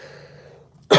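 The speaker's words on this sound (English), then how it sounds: "I literally just had this cough and that's it for a week" A single sharp cough bursts out near the end, loud and close, after a stretch of faint low breathing-like background.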